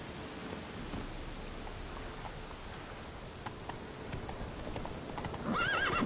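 Hooves of a horse galloping in a video game, a rapid steady clip-clop under a rain-like hiss, ending with a brief whinny near the close.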